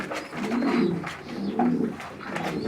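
Pigeons kept in pigeon towers coo softly in repeated low throaty calls that overlap close by, with faint background rustle.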